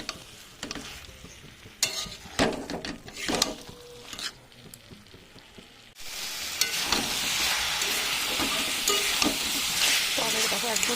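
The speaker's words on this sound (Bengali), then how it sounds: "এবার আমি আবারও ভালো করে কষিয়ে নেব" Fish-head curry with cabbage, with sugar just added, is stir-fried in a pan. Several loud scraping, clattering stir strokes come first, then a dense, louder sizzle takes over and holds steady to the end.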